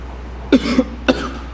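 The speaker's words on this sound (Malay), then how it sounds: "Aku tengok daripada tadi kau ni batuk-batuk je" Two short, close coughs about half a second apart, sharp and fairly loud against a quiet background.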